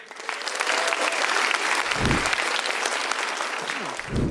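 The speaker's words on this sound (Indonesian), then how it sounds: "Beri tepuk tangan yang meriah untuk Ratanca." Applause from a comedy club audience for stand-up comedian Ratanca, dense and steady throughout with a couple of low thumps, loud and close.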